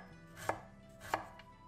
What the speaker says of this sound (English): Finely chop the green of the spring onion.